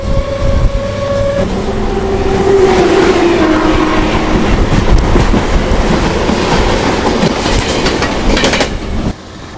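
The Hisar–Secunderabad Express rolls past at close range near Charlapalli station, with a loud sustained rumble and rhythmic clickety-clack of wheels over rail joints. A brief horn-like tone sounds near the start, and the noise cuts off near the end.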